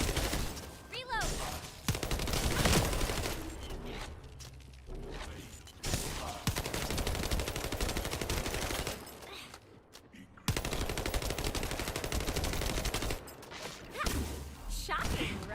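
Gunfire in The First Descendant video game, bursts of shots and impacts crackling through a loud, busy mix, with brief pauses and voices talking over parts of it.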